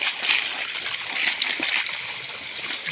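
Water from a hose gushing out with a steady bright hiss and splash, fairly loud and continuous, in a riverside setting with no voices.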